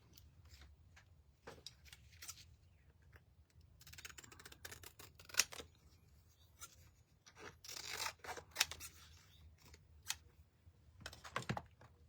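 Close, quiet snips of scissors trimming a paint stencil, sporadic cuts and crisp paper rustles in irregular bursts, with no speech.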